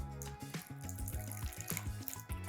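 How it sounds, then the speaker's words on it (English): Water poured from a tap into a gluten-free, vegan pie dough mixture, a steady running splash close by over a low background hum. "I'm gonna add some more water"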